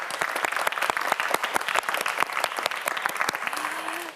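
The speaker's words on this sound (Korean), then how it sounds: "역시 큰 박수 부탁드립니다" Studio audience applause on a televised science quiz show greets a student contestant, many sharp distinct claps in a brisk irregular patter, moderately loud and continuous, with a brief tonal sound near the end.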